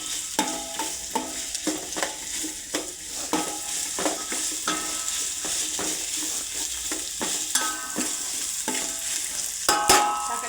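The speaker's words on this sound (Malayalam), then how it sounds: "ആവശ്യമുള്ള സവാള ഇട്ട് അതിനൊന്ന് വരട്ടാം" Sliced onions sautéing in a pan for chicken curry, a steady soft sizzle broken by repeated scraping stirs of a spoon against the pan, close and fairly quiet, with no talking.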